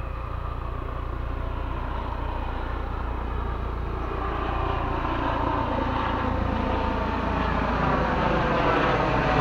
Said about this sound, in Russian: Тут даже вертолет летит.